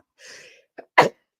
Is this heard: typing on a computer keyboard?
no